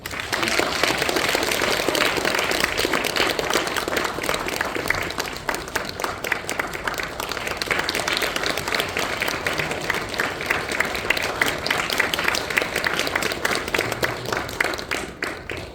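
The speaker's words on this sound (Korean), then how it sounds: "우리 박수로 한번" A church congregation applauds, a steady, even roar of many hands clapping that carries on for a long stretch at moderate distance.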